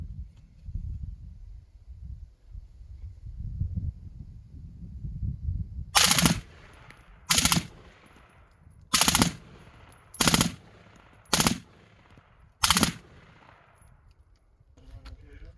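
Six sharp, loud bursts of automatic fire from a Sons of Liberty EX02 M16-type rifle, spaced about a second apart after a stretch of quiet outdoor rumble and wind.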